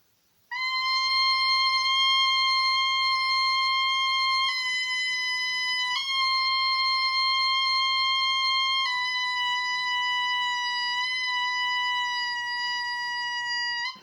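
A steady, buzzy high oboe reed tone, chirped on the reed alone, held for a long stretch, jumping abruptly between a few fixed pitches, bright and close, with no talking.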